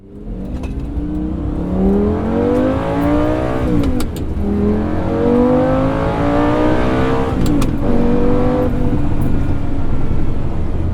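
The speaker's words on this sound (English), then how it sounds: "the feel of being in a mid-engine exotic vehicle like this and shifting the gears yourself" A manual Lamborghini Gallardo, a mid-engine exotic, revs hard from inside the cabin, its engine note climbing through the gears with two clear breaks as the driver shifts.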